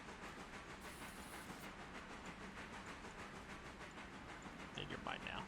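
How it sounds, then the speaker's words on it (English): A passenger train on a logging railroad in the Railroader video game rushes past at speed, a steady hissing rumble with rhythmic clatter, moderately loud, and a brief voice near the end. "there goes the passenger train at a high rate of speed"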